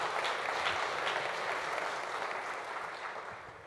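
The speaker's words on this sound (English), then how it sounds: "How about a round of applause for the grandparents?" Audience at a library lecture breaking into a round of applause, a steady, fairly distant wash of many hands clapping that gradually tapers off toward the end.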